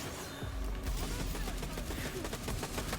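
Rapid gunfire from a Borderlands 3 weapon that uses two rounds of ammo per shot, fired with Amara in a Mayhem 10 fight: a dense, continuous barrage of shots with booming impacts, sustained and loud for the whole stretch.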